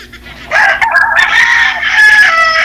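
A fighting rooster crows loudly and close by, a long strained cock-a-doodle-doo with another bird's call overlapping near the end.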